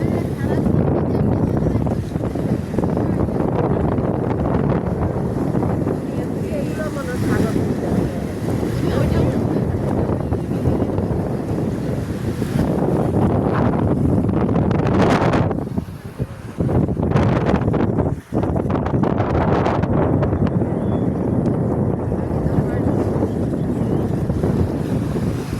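Cool sea breeze gusting across the Jeddah seashore on the Red Sea, a loud steady roar of wind buffeting the microphone with faint surf beneath, briefly dropping away for a moment before surging back.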